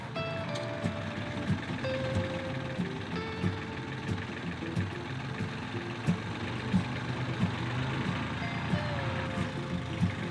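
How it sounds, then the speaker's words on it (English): An engine idles steadily with no battery fitted, kept running by its alternator, a continuous even drone with faint tonal whine and small irregular knocks throughout. "Once it's been fired up, the alternator can keep the engine ticking over without a battery"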